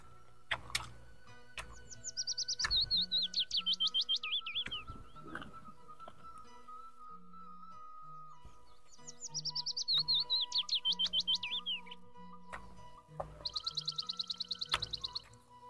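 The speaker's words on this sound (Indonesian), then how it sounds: "Udah sepoi-sepoi, banyak burung." Many birds chirp and trill in bursts over a rice field, with repeated high descending twitter phrases coming and going against quiet rural background, no talking.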